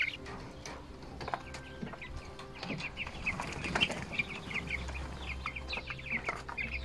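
Chickens in a mobile wheeled coop holding sixteen chicks, with steady clucking, wing flapping and scattered chirps close by over a low outdoor hum.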